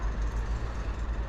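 Road traffic rumbles past outside a parked Auto-Trail F70 camper van, a continuous low engine drone from passing vehicles, moderately loud with no talk.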